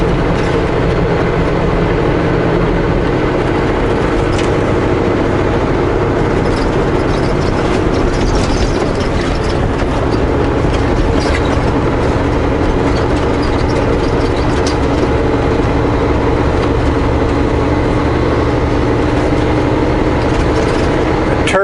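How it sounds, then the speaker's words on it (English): A truck's turbo whines and rumbles with odd noises beneath a steady, loud heavy engine drone, continuous throughout at close range. "Turbo's making some funny noises."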